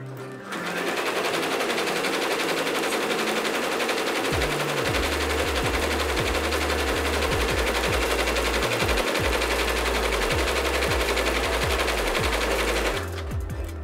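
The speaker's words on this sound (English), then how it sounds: "I'm gonna press and hold start. That way the machine goes very slow and I don't break the needle again or break the machine." Embroidery machine stitching sherpa fabric at very slow speed, giving a loud, continuous rattling whir with irregular knocking thumps from the needle, running steadily for about twelve seconds before stopping.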